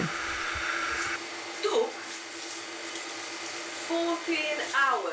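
A freeze dryer runs steadily with coriander inside, a constant mechanical hum and whine in a domestic kitchen, while a person speaks briefly and some small handling noises occur near the end.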